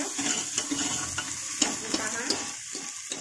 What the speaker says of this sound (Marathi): हे चांगलं परतून द्यायचं